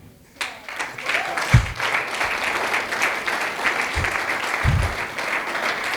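An audience breaks into applause after a quiet start, a dense, sustained clapping with a few low thumps mixed in.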